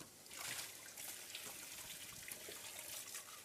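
Water trickles steadily into a small cap, a continuous close, soft pouring with no pauses, indoors in a home kitchen.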